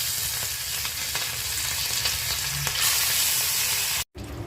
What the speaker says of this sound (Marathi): तेल गरम झालेलं आहे, आता ही मांदेली मच्छी मी टाकते।